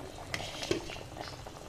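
Plums simmering in syrup for plum chutney, a soft steady bubbling with faint pops, close and quiet with no talk.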